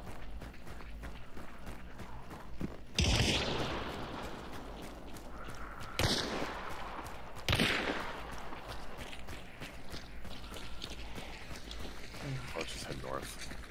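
Gunshots in Hunt: Showdown ring out as a few sharp, moderately loud reports spaced seconds apart, over a steady ambient bed with players talking.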